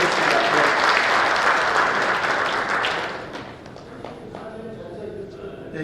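Audience applause at a lecture event, dense and loud at first, then thinning out and fading into scattered claps and room noise after about three seconds.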